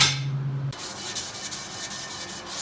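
Steady abrasive rubbing of 120-grit sandpaper polishing the cut ends of metal pieces on a 2007 Ford Mustang build, a continuous close scratchy hiss with slight rhythmic strokes after a brief low hum at the start.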